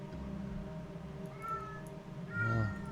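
A pet cat meows close by, a couple of drawn-out, rising cries toward the end, over a quiet background of steady tonal video game sound.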